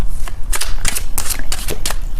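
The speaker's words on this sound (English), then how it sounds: "I am shuffling the cards" Tarot cards being shuffled by hand, a quick run of crisp riffling snaps and flutters in uneven bursts, close and clear with no talk.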